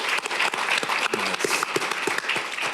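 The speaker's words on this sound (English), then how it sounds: "Let's give ourselves a round of applause." An audience applauds: steady, dense clapping fills the whole stretch at close range, with a few individual claps standing out from the crowd and no talking over it.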